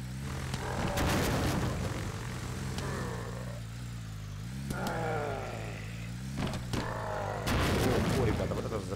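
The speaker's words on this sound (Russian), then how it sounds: "вот это взрыв" A booming explosion in a zombie car-driving video game rumbles over a steady engine drone, with engine revs rising and falling throughout.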